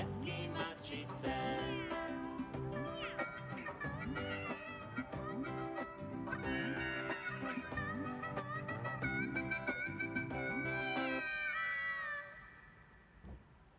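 Cat meows in a Slovak children's song sound as sung, gliding tones over a continuous musical backing. They run for about twelve seconds, then the music drops away and only a faint tail is left.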